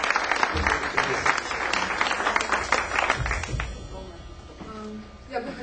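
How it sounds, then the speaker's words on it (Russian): An audience in a church service applauds the pastor with dense, steady clapping that gradually fades out while a voice speaks over the tail. "И подарите аплодисменты"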